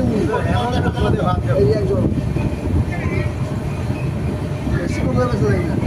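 The Brahmaputra Mail train stands at Sorbhog Station with a steady rumble of rail cars and station bustle, as people talk nearby throughout.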